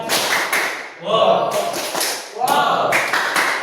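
A classroom audience applauds a student presentation in bursts of quick clapping, close and lively, broken up by a voice speaking between the rounds.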